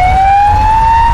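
A steady rising siren tone of an ambulance stuck in a roughly two-kilometre traffic jam during a Tiranga Yatra procession, loud and continuous over low road rumble, with no talk.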